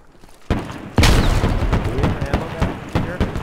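Grenade blast in a Fallujah military shooter game, a loud low boom about a second in, followed by a busy stretch of scattered gunfire and cracks, with voices talking over it.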